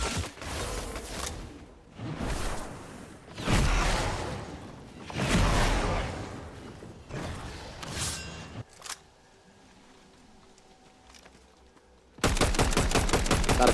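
Gunshots in Fortnite, a run of loud bursts of fire with short pauses, then a quiet stretch, followed by a rapid rhythmic string of shots at the end.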